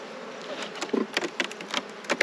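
Honeybees buzz close around a beekeeper treating production hives, a dense continuous drone with sharper passing swells as individual bees fly near.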